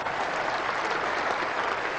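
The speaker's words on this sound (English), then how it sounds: "Loud applause around the ground and long chase to the fielder." Loud, sustained applause from a cricket crowd around the ground at an England versus Australia Test match, a dense, even roar of clapping with no break.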